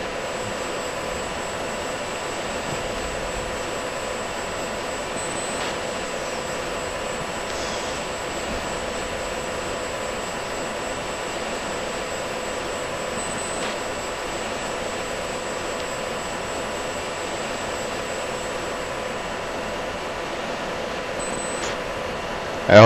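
A fighter jet engine roars steadily through takeoff in the Falcon BMS flight simulator, a constant loud broadband rush that barely changes for over twenty seconds, with no talk.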